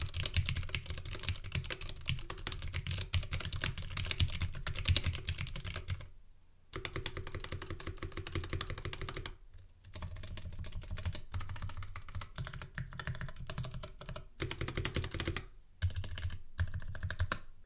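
Typing on a 65% mechanical keyboard fitted with GMK keycaps, with steady close-up clacking in dense bursts broken by a few brief pauses.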